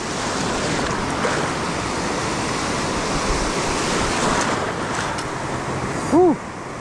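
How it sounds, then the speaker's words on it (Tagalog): Big ocean waves roar and wash continuously nearby on the Palawan coast, with a steady, powerful surf noise and some wind buffeting; a brief tonal chirp near the end. "Grabing alon na laki guys."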